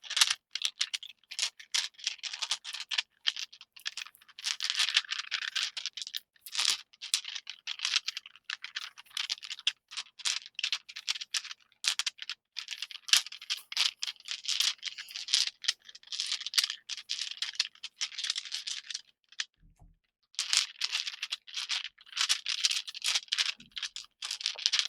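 A bag full of D20 dice rattles and clatters continuously for about 25 seconds in dense, crisp bursts of plastic clicking, close and fairly soft, with a brief pause near the end.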